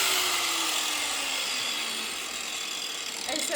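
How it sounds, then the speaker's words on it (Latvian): Vibrating sander grinding down an exhaust pipe in a garage, a loud, steady, high-pitched abrasive whine that holds nearly constant and close throughout, with a slight rise near the end. "Slīpē trubu. Ar vibratoru. Viņš vibrē."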